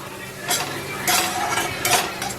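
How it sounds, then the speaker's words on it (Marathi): A spoon stirs chili powder into a pan while preparing paneer bhurji, with scraping swirls and light metallic clinks in steady, close strokes over a faint sizzle. "हे टाकलं का छान मिक्स करून घ्यायचं"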